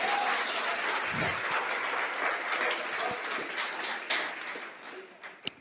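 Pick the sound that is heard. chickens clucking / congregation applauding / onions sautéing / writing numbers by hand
congregation applauding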